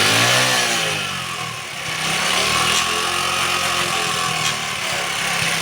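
Small 70cc motorcycle engine being revved up and settling back, a steady buzzing mid-pitched drone that rises and dips in two waves, loud and close with no talking.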